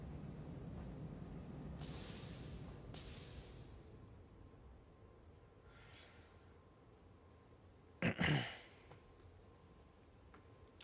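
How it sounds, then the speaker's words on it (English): Air brakes on a train in a factory-building video game give one sharp, loud hiss that rises suddenly and fades within about a second, with softer breathy bursts of air earlier in the stretch. "I like how the brakes are these air brakes up here."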